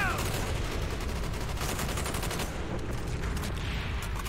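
Rapid automatic gunfire in Call of Duty: Black Ops, a dense loud burst of repeated shots that runs steadily through the moment, with talk mixed in.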